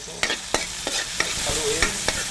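Kangkong sautés in a pan under a steady bright sizzle, with a utensil tapping and scraping the pan in an even rhythm of quick strokes, close by and without speech.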